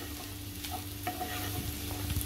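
Potatoes and fenugreek leaves sauté in oil for methi batata bhaji, a steady close sizzle with scraping stir strokes running throughout, no voices.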